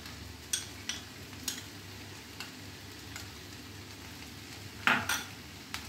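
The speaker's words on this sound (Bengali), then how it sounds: "পোস্ত বাটাটা দিয়ে পুরো তরকারিটা একটু ভালোভাবে নেড়ে দেব।" Curry of shrimp being stirred in a pan after ground poppy seed paste is added, with soft spatula scrapes and light metallic taps against the pot over a faint sizzle, fairly quiet and without talk.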